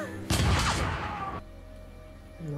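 Gunfire in a Western-themed TV drama: a loud burst of rapid shots and crashes lasting about a second, followed by quieter background with a low hum.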